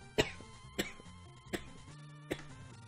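A person with a lingering cough coughs four times, sharp close bursts spaced roughly evenly over a quiet background of video game music.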